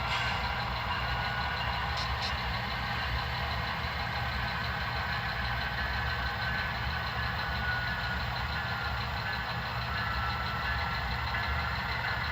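A model railroad diesel locomotive reversing along a yard track to couple onto a waiting string of freight cars, giving a steady, even engine drone like idling that holds unchanged throughout, with no speech.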